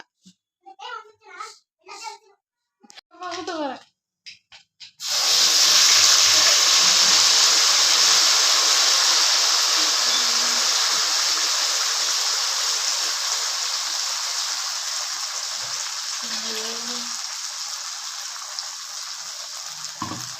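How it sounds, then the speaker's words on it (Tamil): Someone talks briefly before mustard seeds hit about 150 ml of hot sesame oil, and a loud, dense spluttering sizzle erupts, then slowly fades over the following seconds. "நல்லெண்ணெய் நூற்றம்பது எம்எல் ஊற்றிக்கிட்டேன் ஊற்றிட்டு கடுகு போட்டாச்சு"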